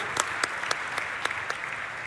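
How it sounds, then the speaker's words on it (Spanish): Applause at an annual construction convention: a short burst of clapping with distinct individual claps popping through a softer crowd wash, fairly steady and moderately loud. "Gustavo, este aplauso para vos"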